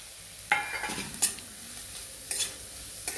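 Three chopped onions frying in oil, a soft steady sizzle broken by several sharp scrapes and clinks of a spatula stirring against the pan, close and quiet, with no talking.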